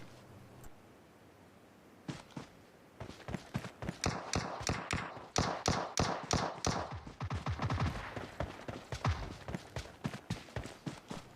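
Gunfire in the PUBG Mobile video game, with single shots building into rapid, rhythmic bursts of automatic fire that stay loud and close.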